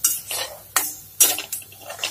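A spoon scrapes and knocks against a pan while stirring ridge gourd peel chutney, in quick, uneven strokes, four or five distinct clatters close by with no voices.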